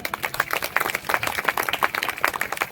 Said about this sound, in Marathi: आता एकदा तुमच्यासाठी जोरदार टाळ्या वाजवा